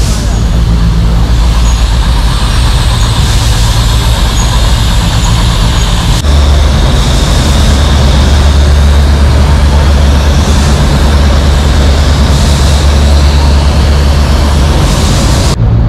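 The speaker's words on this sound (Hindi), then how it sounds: "इस ट्रेन में दोस्तों 2 इंजन लगे हुए हैं, क्योंकि चढ़ाई है बहुत करनी।" Matheran toy train pulled by two engines climbing uphill on a hill railway, a loud continuous rumbling drone with rattling, heard up close throughout.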